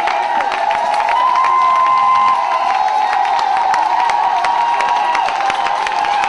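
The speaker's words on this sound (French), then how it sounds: "nous allons acclamer très fort le Seigneur des Seigneurs" A standing church congregation cheers and acclaims the Lord in a loud, sustained roar of voices, with whoops and scattered clapping mixed in. It continues without a break the whole time.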